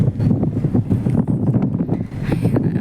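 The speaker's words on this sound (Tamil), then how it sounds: "செமையாக காற்றடிக்குது" Strong wind at Malampuzha Dam buffets the microphone in loud, rumbling gusts that rise and fall continuously, with no speech.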